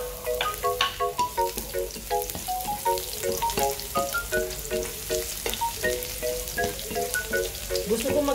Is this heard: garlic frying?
yes